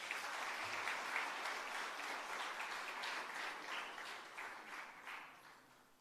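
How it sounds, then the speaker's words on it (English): Crowd applause at a hybrid capacity building workshop and virtual expo, a soft, continuous patter of many hands heard from some distance, tapering off gradually toward the end. "Another round of applause for her."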